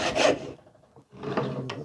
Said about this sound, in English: Again, just using a handsaw